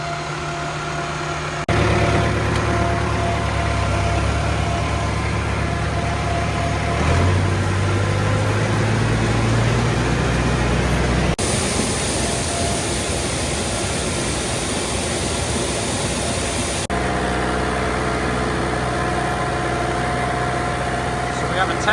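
A Ford 5000 tractor engine runs at a steady idle, a close, continuous low rumble with a droning hum and vibration that shifts pitch slightly partway through.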